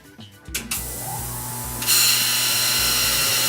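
A trumpet cleaning machine switches on with a click and rattle, then runs with a pulsing mechanical churn under a hissing spray that grows louder partway through, close by and free of speech.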